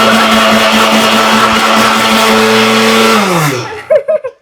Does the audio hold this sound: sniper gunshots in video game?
no